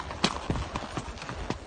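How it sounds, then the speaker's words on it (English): A horse's hooves clip-clop in a steady walking rhythm along an uphill trail ride, close and fairly loud with no talk over them. "I do not have to hold this horse back. You can ride on a loose rein."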